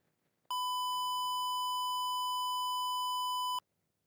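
A microcontroller buzzer sounds one steady, loud electronic beep of about three seconds as an emergency alarm, a clean pure tone that starts and stops abruptly with near silence around it.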